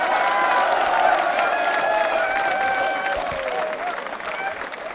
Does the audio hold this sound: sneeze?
no